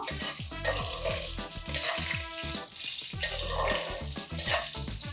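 Whole spices, among them star anise, shahi jeera, green and black cardamom, cloves and pepper, crackle and sizzle loudly in hot oil for dal gosht, a dense continuous spitting with bursts of popping and stirring throughout.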